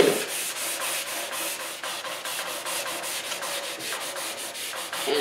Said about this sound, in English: But you're going to want to give it a good sanding.